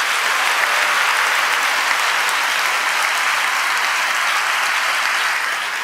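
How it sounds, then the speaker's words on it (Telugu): A congregation applauding at a watch night church service, giving a continuous, even wash of many hands clapping throughout, full and fairly loud, with no voices standing out. "దేవునికి మరి చప్పట్లు కొట్టి మహిమ చెల్లించొద్దు"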